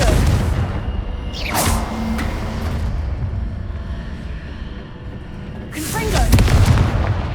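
Confringo spell blasts from Hogwarts Legacy go off in a trial fight against Charles Rookwood, heavy booming bursts near the start and again toward the end over a dense, rumbling battle bed with a voice speaking.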